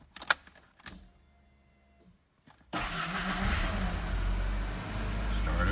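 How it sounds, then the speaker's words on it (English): A 1991 Ford Ranger with a new starter: a few clicks and key jingles, a brief quiet pause, then the engine cranks and catches, settling into a steady, fairly loud idle. "We'll go ahead and try and start the vehicle now with the new starter installed."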